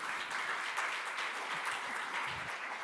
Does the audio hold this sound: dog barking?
no